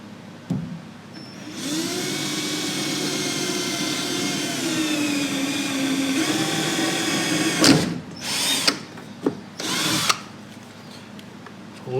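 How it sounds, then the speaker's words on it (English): Power drill boring a hole while an aluminum radiator is fitted to an Austin-Healey Sprite: a loud, steady whine runs for about six seconds, then breaks into several short, sharp bursts as the bit finishes. "Let's drill our first hole."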